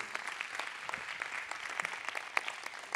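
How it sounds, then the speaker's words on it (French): An audience at an agricultural tech challenge applauds a presented project with a faint, distant, steady patter of clapping. "on peut vous applaudir"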